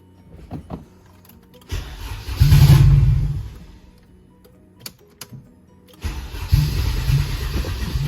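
Turbocharged K24 engine fitted with 2200cc injectors, cranking and catching in bursts, revving loudly then dying away, with a brief pause before it fires and runs again near and loud; no talk.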